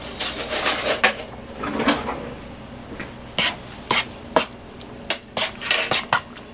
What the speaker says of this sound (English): Let me get my spoon.